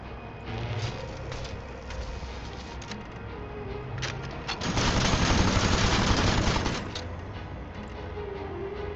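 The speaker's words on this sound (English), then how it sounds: "And now we will use our Gatling gun." A Gatling gun fires in the steampunk game Aether & Iron, a rapid rattling burst that swells loud for about two seconds in the middle, framed by quieter mechanical clatter and game effects.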